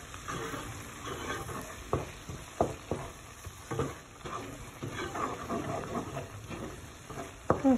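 Chicken frying in spice masala for a spinach (palak) chicken curry, with a low sizzle broken by intermittent stirring scrapes and knocks of a spoon in the pot, close and moderately quiet, with no voices.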